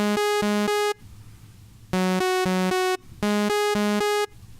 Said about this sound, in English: I think that's a saw patch.